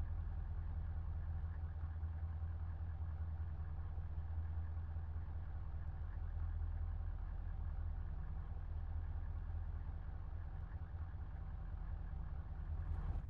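A vehicle engine idles in the video game Arma, a steady, loud low drone that holds unchanged throughout with no other sounds over it.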